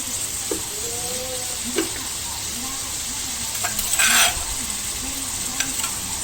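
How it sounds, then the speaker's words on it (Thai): Steady sizzling of chicken offal stir-fried in a hot pan with holy basil, with scraping and a metallic clink of a utensil partway through, loud and close. "เป็นผัดเครื่องใน ผัดเครื่องในไก่นะครับ"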